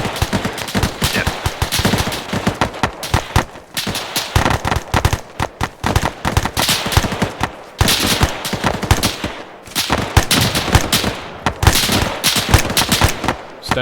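Dense Arma 3 video game gunfire fills the scene, with sustained machine-gun bursts and overlapping rifle shots rattling loud and near in rapid rhythm, pausing only briefly between volleys.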